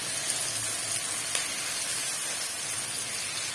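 Chopped tomatoes hit hot oil with garlic and ginger, frying for a gobhi gosht curry: a steady, close, even sizzle and hiss that holds at the same level throughout, with no voices.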